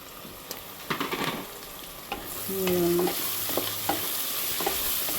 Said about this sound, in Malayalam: ഇഞ്ചിയുടെയും വെളുത്തുള്ളിയുടെയും ഒക്കെ പച്ചമണം പോകുന്നതും വരെ വഴറ്റി